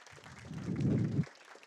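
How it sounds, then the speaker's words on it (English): Audience applause at a tech talk on data validation, a short burst that swells and cuts off abruptly after about a second, fairly close and moderately loud. "So let's go ahead and give a round of applause."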